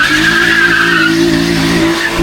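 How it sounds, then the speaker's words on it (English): A tuned BMW X3M with a Stage 2 tune and downpipes does a burnout, its tires squealing loudly and steadily over a droning engine, close and continuous throughout. "Show you a burnout."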